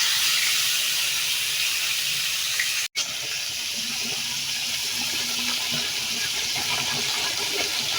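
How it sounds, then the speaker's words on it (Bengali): Rohu and koi fish frying in hot oil, giving a loud, continuous sizzling hiss that cuts out for an instant partway through and then resumes just as steadily. "তেল গরম করে নিয়েছি, তো তার মধ্যে মাছগুলো ভেজে নিচ্ছি।"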